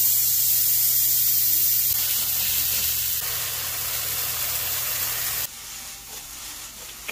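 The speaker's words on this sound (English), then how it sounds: "Butter going in, and a little bit of oil. Butter. Watch out. Chicken frying." Steady, loud sizzling of chicken frying in butter and oil, a continuous crackling hiss that drops slightly in intensity near the end.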